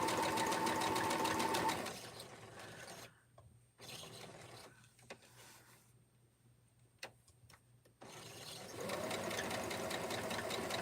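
Sewing machine stitching rag quilt blocks, running in steady whirring bursts at the start and end with a quieter gap of scattered clicks and handling noises between.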